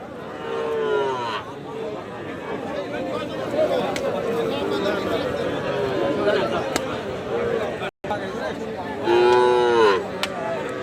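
Cattle mooing at a cattle market, with several drawn-out moos, one near the start and a louder one near the end, over a background of crowd chatter and talk nearby.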